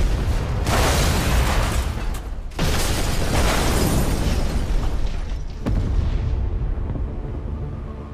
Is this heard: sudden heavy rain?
no